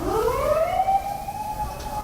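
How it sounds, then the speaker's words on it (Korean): Police siren on a Tokyo street in the Sanya district, a single sweeping wail rising and falling, fairly close and loud over street hum, with no talk. "경찰 사이렌 소리까지."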